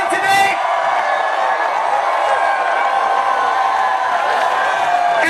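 A May Day protest crowd screaming, whooping and cheering together, a loud sustained roar of many voices holding steady throughout.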